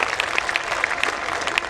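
Audience applause at a Hindi kavi sammelan poetry gathering, a steady patter of clapping from a small crowd with scattered sharper claps throughout.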